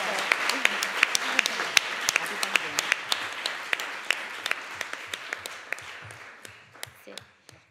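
An audience at a 2022 forum for aid and development workers claps steadily, a dense patter of many hands that gradually fades away over several seconds.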